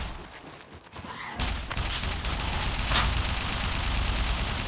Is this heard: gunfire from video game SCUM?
yes